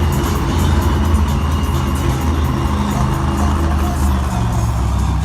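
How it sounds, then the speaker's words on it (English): The Monster Mutt monster truck roars loudly and steadily at a Monster Jam arena show in Lincoln, Nebraska, its engine droning continuously under crowd noise and an announcer's voice. "Monster Mutt, such a classic truck in the sport"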